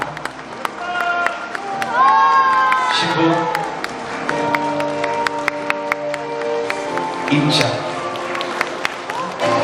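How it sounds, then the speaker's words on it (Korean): Wedding guests applauding and cheering as the bride enters at a Vietnamese-Korean international wedding, sustained clapping with whoops and crowd noise while an emcee speaks over it. "따뜻한 박수로 우리 아름다운 신부를 맞이해 주시기 바랍니다."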